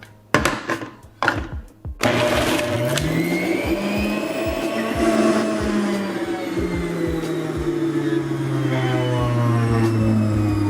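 A juicer motor whirs steadily through garlic and oranges, a few short thumps and clunks at the start before the machine settles into a loud continuous drone with shifting pitch.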